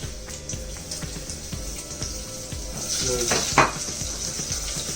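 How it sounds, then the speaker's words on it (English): Lightly crushed garlic cloves frying in a pan for mutton xacuti, a steady close sizzle with faint utensil clinks and scraping stirs. "So I'm just gonna, you know, fry all this together"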